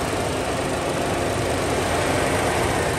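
The 1.4-litre engine of a 2016 Buick Encore AWD idles with the hood open, a steady, even hum with a constant low rumble and no change in speed, heard close up and alone.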